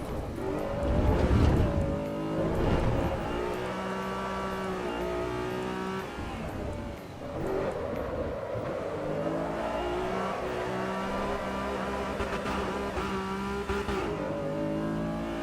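A race car engine in the sim racing game Assetto Corsa EVO revs steadily with strong harmonic tones, rising and falling through gear changes, loud and continuous for the whole stretch.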